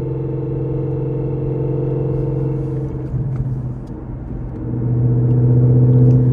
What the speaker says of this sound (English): What do you guys think about the gear whine?